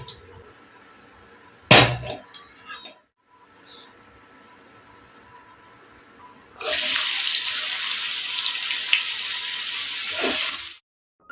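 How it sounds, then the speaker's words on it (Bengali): Water from containers fetched at a roadside source being poured into bottles at home, a steady splashing pour lasting several seconds near the end, preceded by a sharp clang and quiet handling noises. "রাস্তার মাথা থেকে বাবা মা সকালবেলাতে গিয়ে জল নিয়ে এসেছিল, সেগুলোই এখন মা বোতলে ভরে রাখছে।"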